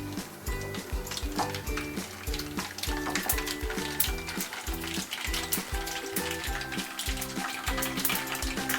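Cumin, mustard seeds and dry chilli pieces crackle in hot oil as a carrot pickle tempering, a close continuous sizzle sprinkled with sharp popping spatters and an occasional clink of a utensil.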